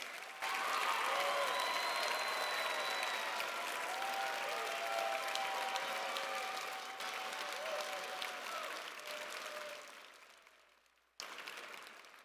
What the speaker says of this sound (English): So if all the students could give a round of applause for all their mentors.